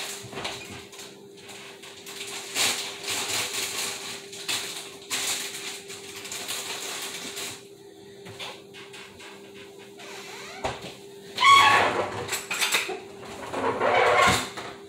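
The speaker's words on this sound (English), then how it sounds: "Get a spoon out." A spoon pulled out of a kitchen drawer, heard as clattering metal cutlery and rattling in short bursts against a faint steady hum, with a sharper jangle near the end.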